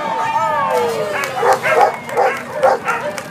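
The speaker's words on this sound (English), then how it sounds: "Noisy dogs." Dogs at a dock-jumping splash event in Clayton, New York bark and yip loudly in several bursts, preceded by a whining, whimpering call, with crowd noise around them.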